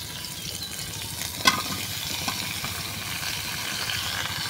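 Pumpkin sizzling in oil with fried onions, a steady close crackle that runs throughout, with one sharp clatter as pieces drop into the pan.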